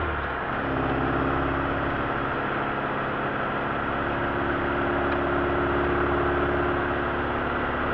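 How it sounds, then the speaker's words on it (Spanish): A Rastrojero vehicle's engine drones steadily as it labours uphill on a road near San Antonio de Arredondo, Córdoba, a continuous low hum with no voices over it. "Se ve que los motores se esfuerzan más de este lado."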